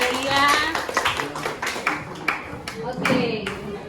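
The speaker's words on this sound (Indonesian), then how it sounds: "Tepuk tangan juga untuk Aurelia" Students in a classroom give a student a brief round of applause, a short burst of scattered claps mixed with a teacher's speech.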